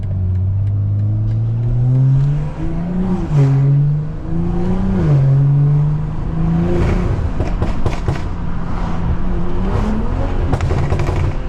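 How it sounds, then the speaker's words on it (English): A tuned BMW M340i with a downpipe revs and accelerates up through gears, the exhaust droning and rising in pitch with turbo whoosh, close and loud, no voices. "I'm probably gonna drive with my windows down so I can hear my turbos and my exhaust."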